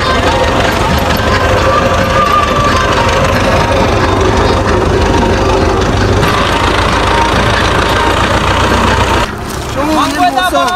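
A tractor engine idles loudly and continuously in Gishkoor, Buleda, Balochistan, a thick, rattling drone that dips briefly near the end as a voice breaks in.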